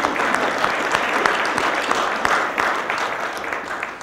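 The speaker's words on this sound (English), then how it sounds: "let's have a round of applause for that" Steady audience applause fills a hall at a foundation's annual update gathering, many hands clapping in a dense, even wash that holds throughout and tapers slightly at the end.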